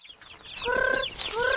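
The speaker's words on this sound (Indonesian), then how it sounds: "Nah, bagi ayam makan." Cartoon chickens cluck and squawk in a few quick, close calls, rising and falling bursts in a short burst from the Upin & Ipin animated series, with no talking over them.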